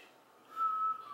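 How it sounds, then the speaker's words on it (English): A single faint, sustained whistled note rises out of quiet background from a short film, lasting about half a second alone. "The whole whistling thing."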